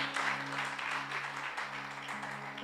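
A church congregation applauding during a worship session, a steady, broad wash of clapping that stays even throughout, with a sustained organ-like tone held underneath.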